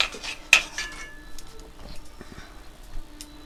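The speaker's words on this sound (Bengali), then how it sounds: "এই সুজিটাকে আমি ভালো করে শুকনো কড়াইতে ভেজে নেব" Semolina dry-roasted in a wok, a loud metal clank of the spatula followed by lighter scraping and tapping strokes that fade into quieter stirring.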